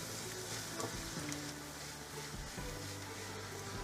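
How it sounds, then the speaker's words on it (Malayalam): Chili, coriander and garam masala powders sizzle steadily in hot oil in a pan as they are stirred, a close, continuous frying hiss with faint scraping and no voices. "നന്നായിട്ട് ഈ പൊടികളുടെ പച്ചമണം മാറുന്നവരെ ഇളക്കി കൊടുക്കുക കേട്ടോ"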